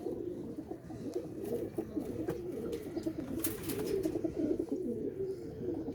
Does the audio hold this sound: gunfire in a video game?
no